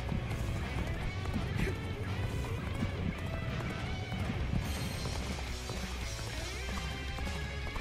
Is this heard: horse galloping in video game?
yes